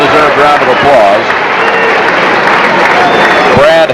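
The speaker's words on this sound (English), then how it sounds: "With 9 on the afternoon, a well-deserved round of applause" Broad crowd applause fills a 1989–90 McKendree versus Drury college basketball gym, a steady wash of clapping running loud throughout, with voices and a commentator talking over it.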